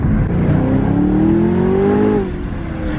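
A twin-turbo Camaro ZL1 on stock exhaust revs hard and close, a loud engine tone climbing for about two seconds, then dropping off into a quieter idle.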